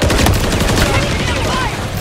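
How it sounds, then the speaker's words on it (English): Rapid gunfire in the Modern Warfare 3 video game, loud and continuous bursts of shots packed together over dense battle noise, with voices calling out over it. "Enemy fire!"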